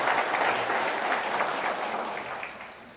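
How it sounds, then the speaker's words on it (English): An audience at a Riverway summit event applauds visiting mayors: dense, close applause that begins at full strength and slowly tapers off over a few seconds. "So please give them a round of applause for taking time to be with us today."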